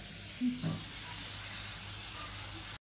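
Sprouted moth beans sauté in a spicy masala gravy for misal, a continuous soft hiss and sizzle with a brief stir near the start, fairly quiet and steady before cutting out abruptly.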